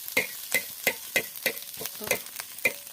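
Eggs frying in a pan in a home kitchen, with a steady sizzle broken by rhythmic scraping strokes of a spatula, close and fairly loud.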